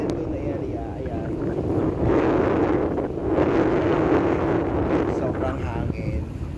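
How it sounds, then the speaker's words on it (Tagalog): Strong seaside wind gusts buffeting the microphone on the shore in front of Jizan University, Jizan, a steady roaring rush that swells in the middle, with a voice faintly present underneath. "Sobrang hangin."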